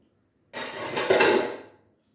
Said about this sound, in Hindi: और अब हम इसके ऊपर प्लेट रखेंगे